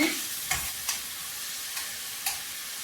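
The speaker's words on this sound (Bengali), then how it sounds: "পেঁয়াজ রসুন ভাজা হয়ে গিয়েছে সামান্য আদা বাটা দিয়ে দেব" Onion and garlic frying in a pan for Dawood Pasha kebab sizzle quietly while a spatula scrapes and taps the pan four or five times at an uneven pace.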